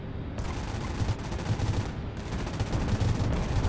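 Twin .50 caliber machine guns on an aircraft fire in the video game Nuclear Option, producing dense, continuous rapid-fire bursts that run loud and unbroken for nearly four seconds, with no voices.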